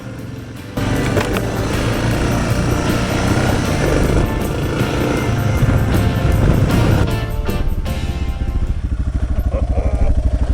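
Loaded dual-sport motorcycles ride a gravel connector road, engines droning loud and steady close by with a rough, continuous rumble throughout.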